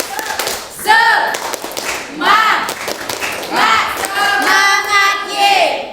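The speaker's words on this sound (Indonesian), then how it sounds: "Tepuk semangat." A group at an entrepreneurship workshop performs a rhythmic spirit clap, sharp patterned bursts of clapping in quick sequences, mixed with loud cheering and chanting voices throughout.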